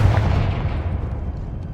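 A Confringo blasting spell from Hogwarts Legacy lands as a single close, loud, low explosive thump, with a rumbling decay fading over about two seconds.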